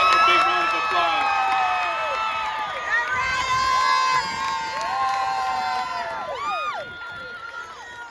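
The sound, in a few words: graduation crowd applause and cheering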